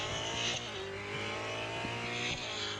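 Race car lapping the Le Mans circuit at night in a racing video game, a steady high engine whine with gear shifts and brief tire noise, continuous and fairly loud.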